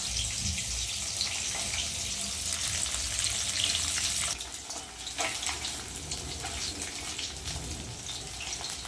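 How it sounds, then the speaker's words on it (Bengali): Fish fries in oil, sizzling and crackling steadily with a bright hiss, continuing throughout with a brief dip partway. "মাছ ভাজা প্রায় হয়ে গেছে"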